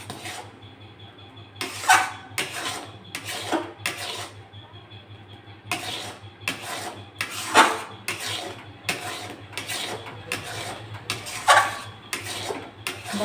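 Raw mango pulp is stirred continuously in a pan, a string of scraping, rasping spoon strokes against the metal that come in bursts and pause between them, close and moderately loud.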